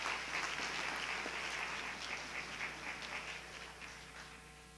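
An awards-ceremony audience at a state history day event applauds a third-place winner, a dense, steady crowd clapping that holds evenly throughout and tapers slightly toward the end, fairly distant and alone with no talk.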